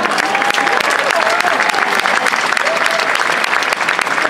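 Warm concert-hall applause for an Italian rock band playing with an orchestra, a dense continuous wave of clapping from a large crowd with faint voices and whistles threaded through.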